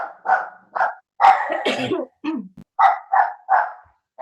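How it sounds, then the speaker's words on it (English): A dog barks several times in a row, close by, with a rougher growl-like burst in the middle; no speech accompanies it. "Dog's barking."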